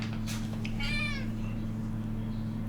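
A house cat meows close by, a couple of short calls followed by one longer drawn-out meow, over a steady low electrical hum.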